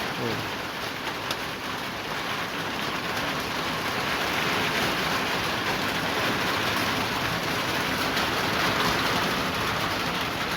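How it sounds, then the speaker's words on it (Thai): Steady rain pours down in a constant, dense hiss with no letup. "ฝนมันตกแล้วครับ"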